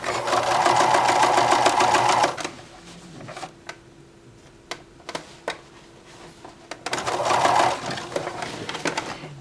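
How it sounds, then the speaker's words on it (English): Close, steady sewing-machine edge stitching runs along a purse handle, then stops for a stretch of quiet with scattered clicks as pins are pulled. A second even run of stitching follows before the machine stops again. "get my presser foot in here, and I'm going to edge stitch, stopping the needle down"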